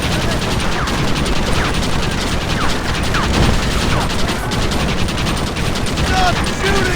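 Gunfire in the video game Red Dead Redemption crackles in dense, overlapping shots during a loud shootout, with continuous action noise filling the gaps.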